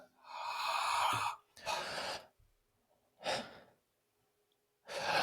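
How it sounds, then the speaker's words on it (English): A person breathing in and out through the mouth during a breathwork exercise, several long, close, airy breaths separated by quiet gaps. "So I want you to start to just inhale through your mouth"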